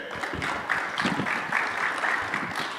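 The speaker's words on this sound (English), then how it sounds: "Can I get a round of applause for Shrey?" Audience applause at a startup showcase, a steady wash of clapping from a crowd filling the room, moderately loud and continuous with no clear talk over it.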